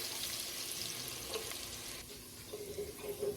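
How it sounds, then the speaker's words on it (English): Seasoning sizzles in hot bacon grease in a pan, a soft continuous crackle and hiss heard fairly close at low volume, with faint stirring noises and no talking. "You can hear it sizzling."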